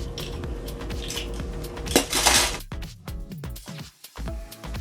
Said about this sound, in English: Sky is gonna go ahead and mix that up, the eggs and the butter and the vanilla.